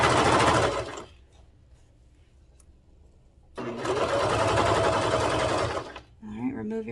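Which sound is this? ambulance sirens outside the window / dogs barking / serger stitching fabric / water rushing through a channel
serger stitching fabric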